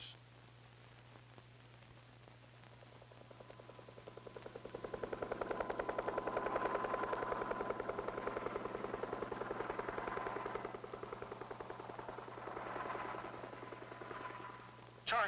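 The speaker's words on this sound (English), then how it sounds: "Air Force helicopters survey and monitor the acres of blast area" Air Force helicopters pass over a blast area at a Nevada test site, their rotor drone swelling in from a distance, holding strong, then easing and rising again against a faint hiss.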